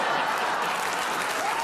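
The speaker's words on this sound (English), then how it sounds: "and then they start clapping" A studio audience in a played clip breaks into full, dense clapping without laughter, a continuous even wash of applause.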